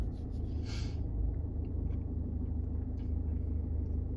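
Diesel car engine idling with a low, steady rumble close to the microphone, a brief higher hiss at the start, continuing as an even throb throughout.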